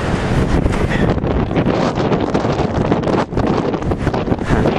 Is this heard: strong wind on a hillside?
yes